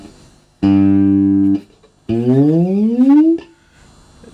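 A pawnshop P-bass style electric bass guitar, plugged in and played, sounds two strong, loud notes up close: the first held steady for about a second, the second sliding upward after a brief pause, with no talk over it.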